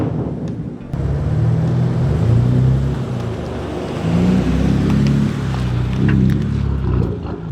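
A straight-piped BMW M4 F82 on the road gives off a loud, continuous low exhaust drone that swells and eases slightly as it cruises, with no talking.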